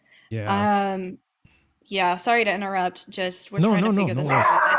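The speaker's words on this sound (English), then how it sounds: "I'm so sorry about the barking." A dog lets out a couple of loud, drawn-out barks and yips close by, alternating with a person talking over and between them.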